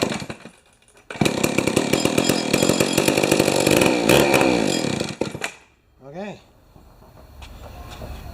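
A 1968 Homelite XP1020 chainsaw fires up and runs loud and rough for several seconds, then dies. A brief quieter sputter follows, and it settles into a low, near idle-like rumble.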